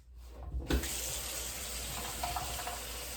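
Water runs steadily from a bathroom tap into a sink while rinsing after tooth brushing, starting abruptly and continuing as a close, even gush.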